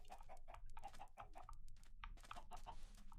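Chickens clucking in Minecraft: a string of short, quiet bursts of clucks and squawks in irregular succession, fairly faint and with no voices over them.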